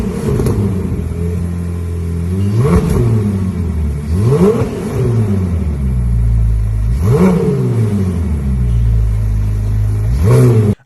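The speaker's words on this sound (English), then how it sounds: "a regular 296 GTB that was in a showroom, and it just was starting up and revving its exhaust" A Ferrari 296 GTB in a showroom starts up and revs its exhaust repeatedly, with four loud, close blips that rise sharply and fall back to a deep, rumbling idle between them.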